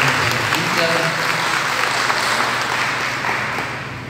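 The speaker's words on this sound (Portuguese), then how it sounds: "Vamos dar uma salva de palmas a ela." A room full of people at an education lecture in Jaraguá, Brazil, applauds to welcome a visiting professor, dense continuous clapping that holds strong throughout and eases slightly at the end.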